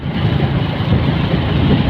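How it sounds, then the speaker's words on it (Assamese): Steady rumbling engine noise mixed with wind buffeting from a motorcycle ridden on the road in Guwahati, continuous and fairly loud throughout, with no talking. "দাদাই বাইক চলাইছে"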